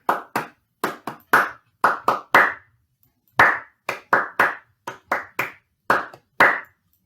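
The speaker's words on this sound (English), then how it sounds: "And then we're clapping a rhythm after we say that." Hands clap a rhythm during a school singing assembly music lesson: about sixteen sharp, close claps in short grouped patterns with a brief pause midway, with no other sound.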